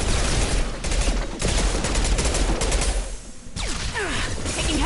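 Gunfire in the video game Mass Effect 2, a loud, dense fusillade of rapid shots and automatic bursts that continues almost without pause, with a brief dip in intensity before the firing resumes.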